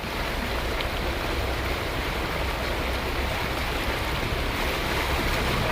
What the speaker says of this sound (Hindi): गाड़ियां पानी को चीरते हुए जाने को मजबूर हुई।